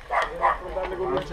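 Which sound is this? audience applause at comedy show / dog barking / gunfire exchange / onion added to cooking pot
dog barking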